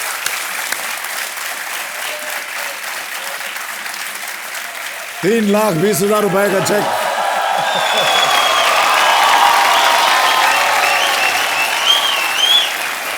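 A quiz show studio audience claps steadily as a winner receives a prize cheque, a presenter speaking over the start before the applause swells louder and fuller with light cheering.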